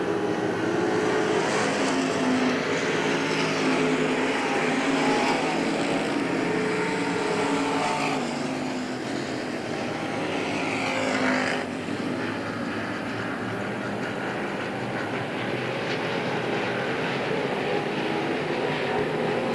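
Race cars roaring around the track, a steady, loud engine drone that stays close throughout with small surges as cars pass, and no talking over it.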